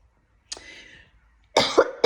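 Two close, harsh coughing bursts from one person, the second louder and broken into quick barks, separated by a moment of silence.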